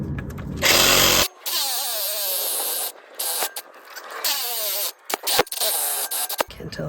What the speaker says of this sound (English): I'm going to use a trusty Sawzall